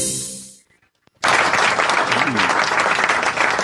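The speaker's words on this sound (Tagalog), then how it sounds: "napaka-overwhelm naman yung mga pagsalubong at palakpak ng ating mga audience" A studio audience bursts into applause for a news program host: a short musical tone fades to near silence, then thick, loud clapping erupts and continues steadily, with a voice faintly mixed in.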